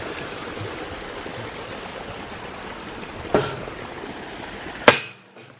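Stream water flows steadily beside a countryside walking path, a constant rushing wash with a sharp knock partway through and another louder one just before it cuts off.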